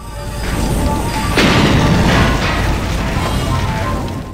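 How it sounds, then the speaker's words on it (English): A fierce explosion in the sci-fi game System Shock 2 bursts out loud as a sudden broadband boom, then rumbles and fades slowly over a few seconds beneath steady ambient hum. "the explosions of those things are something fierce"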